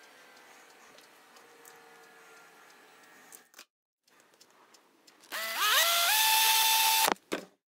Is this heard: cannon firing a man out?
no